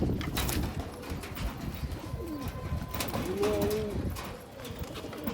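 Giribaz pigeons coo in a loft, a steady run of low throaty calls close by, with some background bustle and faint voices underneath.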